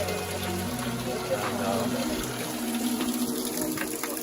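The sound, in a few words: water flowing through Incan waterway at Machu Picchu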